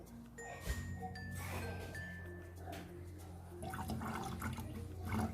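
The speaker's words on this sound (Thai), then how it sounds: "จะใช้ความสามารถพิเศษในการเท ตวงเทลงไปเลยเนี่ยตัวนี้ครับ" Liquid microbial starter is poured into prepared milk with a steady, close gurgling splash that runs on without a break and swells louder toward the end.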